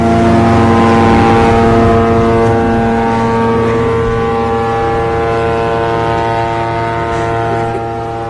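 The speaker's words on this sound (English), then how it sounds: "a boat goes by while he's speaking" A boat passes on a river, its engine a loud, steady droning hum with strong tonal harmonics, slowly fading toward the end, with some wind noise.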